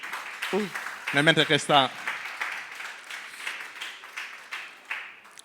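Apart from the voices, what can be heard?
audience applause for chef Marina Ravarotto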